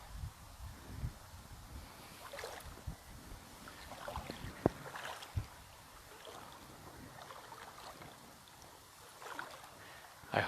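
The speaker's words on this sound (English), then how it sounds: "I hope that you guys can hear the water running." River water runs in a steady wash while someone walks along the bank, with crunching footsteps, faint wind buffeting and occasional knocks near the microphone.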